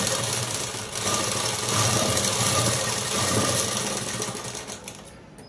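An electric sewing machine stitches a seam on a jacket, a fast, continuous mechanical whir close up, pausing briefly near the start and stopping just before the end.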